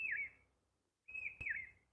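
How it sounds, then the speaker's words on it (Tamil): Sparrows give two short, bright bursts of chirping, each a quick trill separated by a brief silence, close by against a quiet background. "அழகான குருவிகளின்"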